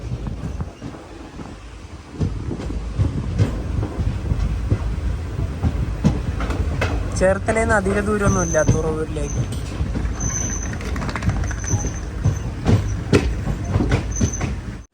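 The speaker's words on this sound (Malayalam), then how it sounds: "ട്രെയിൻ ഇതാ തുറവൂർ റെയിൽവേ സ്റ്റേഷനിലേക്ക് എത്തിയിരിക്കുകയാണ്" An Alappuzha to Chennai express train pulls into Thuravoor station with loud, steady rolling clatter, wind buffeting and a squealing brake or wheel screech midway, while someone talks over the noise.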